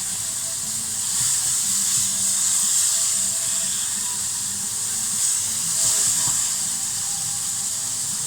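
Beef stew ingredients frying in a pan give a steady close hiss and sizzle with soft crackle, swelling slightly now and then and running unbroken without speech.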